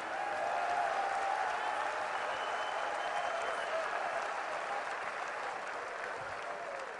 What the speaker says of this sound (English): Clap your hands, all you strong men who are foundation people.